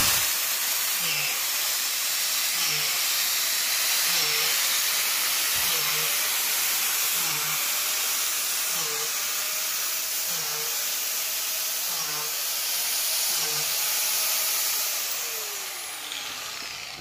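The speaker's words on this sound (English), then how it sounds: "I'm going to put a hole and go 6 inches, put another hole, go 6 inches, put another hole all down the log." A power drill bores a row of holes roughly six inches apart along a log for shiitake spawn inoculation, a steady loud hissing whine with regular short pulses as each hole is cut, no talking.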